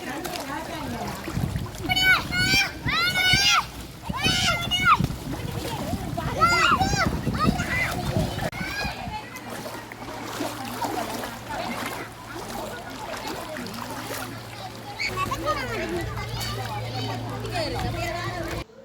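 Children swim and splash in water. Repeated splashes and sloshing mix with excited high-pitched shouts and lively chatter throughout, while a steady low hum runs beneath the second half.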